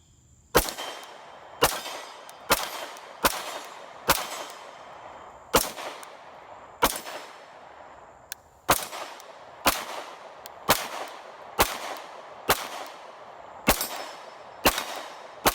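CZ P-07 pistol fired outdoors at a shooting range in hot weather: about fourteen sharp, loud shots spaced roughly a second apart with brief pauses, each cracking report trailing into a short ringing decay, no talking.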